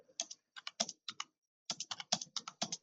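Keys clatter on a computer keyboard during beginner typing practice, two quick bursts of crisp taps separated by a short pause, close and moderately quiet with no voices.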